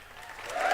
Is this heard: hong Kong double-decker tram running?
no